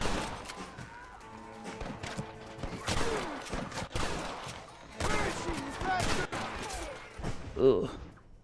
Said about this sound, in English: Oi, stop shooting me.